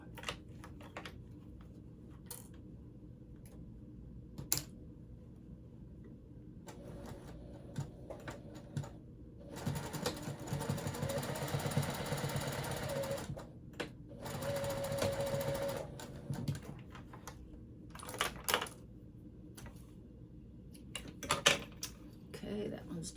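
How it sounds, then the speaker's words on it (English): A sewing machine stitches a seam on a purple water bag, running in several steady bursts of whirring between pauses, with a person talking in between. "All right, so we are going to sew that now."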